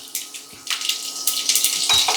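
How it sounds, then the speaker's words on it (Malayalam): Crackling, spluttering bursts of a teaspoon of mustard seeds popping in hot oil over a medium flame, loud and close, coming in irregular clusters with no voices. "ഒരു ടീസ്പൂൺ കടുക് ഇട്ട് പൊട്ടിക്കാം കടുക് പൊട്ടി തുടങ്ങിയിട്ടുണ്ടല്ലേ"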